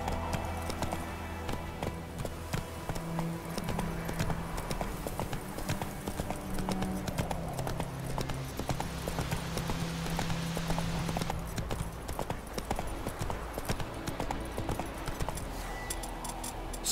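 Horse hooves clip-clopping steadily in the video game Witcher 3, a continuous rhythmic trot of close, crisp hoof beats over a low game soundscape.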